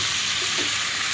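Shrimp sizzle steadily while frying in butter with onion, a dense, continuous hiss that stays close and loud with no talking.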